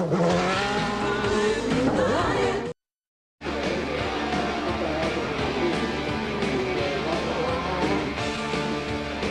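A 1990 Formula 1 car on a qualifying lap at Adelaide screams past at high revs. The engine pitch rises and falls through gear changes, cut briefly by a short silent gap, with no talk.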